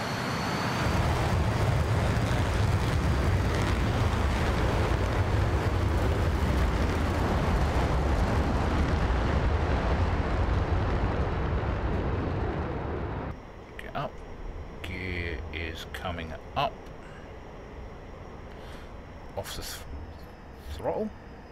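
An Su-30SM jet in DCS World taking off, both engines at full throttle, giving a loud steady roar that drops to a quieter hum partway through, with scattered clicks near the end.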